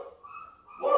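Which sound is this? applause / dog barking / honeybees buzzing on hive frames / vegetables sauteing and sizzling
dog barking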